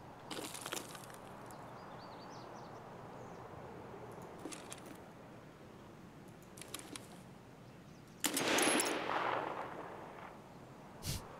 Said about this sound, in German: Einfach mal einen Schuss abgeben.